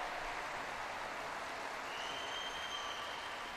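A home crowd applauds after a gymnast's high bar routine at a gymnastics world challenge cup in Mersin, a steady, dense wash of clapping throughout with no one talking.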